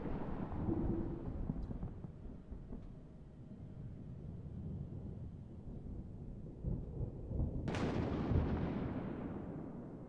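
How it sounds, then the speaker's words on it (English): Low rolling thunder rumbles through the stormy atmosphere of Jool in Kerbal Space Program, a steady dark roar with a sharp crack near the end swelling into a louder boom that slowly fades. "it's going to get quite loud for the thunder and lightning"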